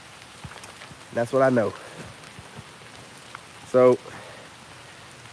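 Steady rain falls everywhere outdoors as a constant soft hiss, heard beneath someone speaking in two short bursts.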